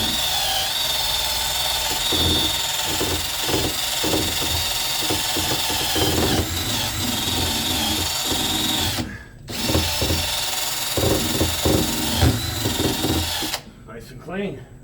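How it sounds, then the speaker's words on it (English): A Porter Cable power tool fitted with a regular wire wheel scours an exhaust manifold riser area on a Mercruiser 454 boat engine, a loud, steady grinding whir with a brief pause partway and a cutoff near the end, with a voice talking over it. "Just a regular wire wheel on a Porter cable gun."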